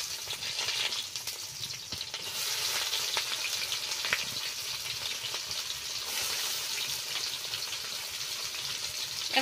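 Chopped onion frying in mustard oil with whole cardamom, a steady bright sizzle and crackle running close and continuous throughout, with faint stirring scrapes and no voices.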